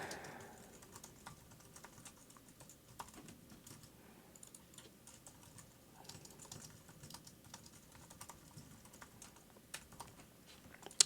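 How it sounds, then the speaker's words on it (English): Hand typing on a computer keyboard while entering code for raw SQL API endpoints, a steady run of light, quick key clicks, close and fairly quiet, with no talking. "I'll just type it by hand."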